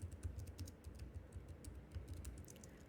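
Rapid, quiet typing on a computer keyboard as a Maven build command is entered, a steady run of soft key clicks heard close up and alone.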